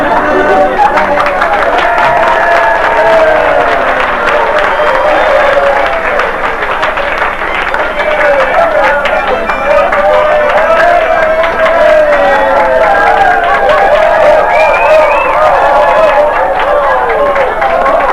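An audience at a comedy singing show keeps up steady clapping and cheering, loud and continuous, with voices singing over the crowd throughout.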